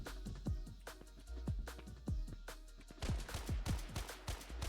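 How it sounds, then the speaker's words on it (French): Rapid video game gunshots crack out in a steady series of sharp, punchy reports, fairly faint and somewhat distant, with no talking. "J'entends tes coups de feu en tout cas."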